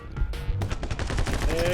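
Rapid Uzi gunfire fills the video game My Friend Pedro, a dense burst of sharp repeated shots lasting the whole moment. The sound is loud and close, with quick bangs blurring into continuous automatic fire.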